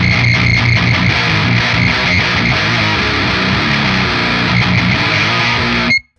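A dense, harsh HM2-style distorted electric guitar plays a sustained, saturated riff for about six seconds, loud and wall-like, then cuts off abruptly.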